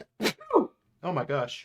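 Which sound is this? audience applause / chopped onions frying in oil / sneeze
sneeze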